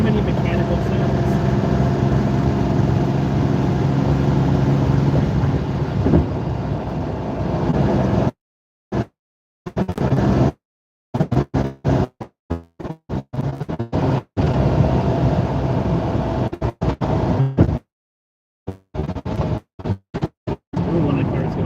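Interior drone of a Lamborghini Countach on the road, steady engine hum and mechanical noise for several seconds, then repeatedly cutting in and out with abrupt gaps of silence.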